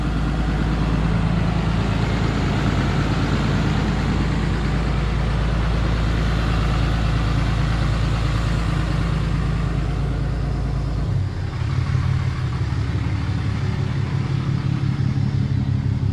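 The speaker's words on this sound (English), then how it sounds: "Definitely hear the turbo a little bit more with the 5-inch compared to what I had before." A 2012 Dodge Cummins 6.7 diesel pickup with a 5-inch exhaust idles close by, a steady deep rumble with faint turbo whine, shifting tone slightly near the end.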